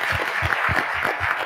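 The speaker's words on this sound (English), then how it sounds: "Please, let's clap for this lady" Applause from an audience at a live press unveiling event in Tunis, dense and steady clapping with rhythmic low thumps running through the whole stretch, fairly loud and continuous.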